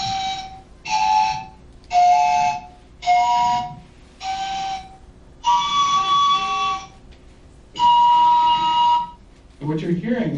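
Panpipes sounding two notes at once to form small chords, a series of breathy, sustained tones in separate phrases with gaps between, fairly close, ending with a brief burst of speech.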